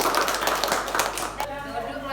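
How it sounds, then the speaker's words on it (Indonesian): A classroom of students claps together in a burst of fairly loud, dense applause that breaks off abruptly partway through, leaving quieter room tone with a faint voice. "Oke, tepuk tangan untuk kita semua."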